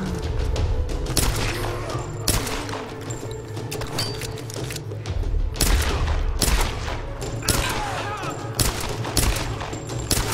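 Repeated gunfire in the Tomb Raider game as Lara shoots an enemy, loud bursts and booming shots recurring across the whole stretch, dense and continuous with faint background game noise.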